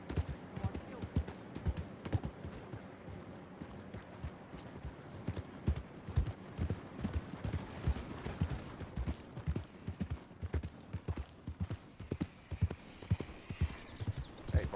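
Horse hooves clip-clop steadily in Red Dead Redemption 2, a rhythmic run of close, distinct hoofbeats that continues throughout, with occasional faint snorts.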